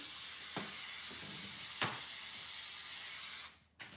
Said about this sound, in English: I'm just going to spritz it with some grey mark glue.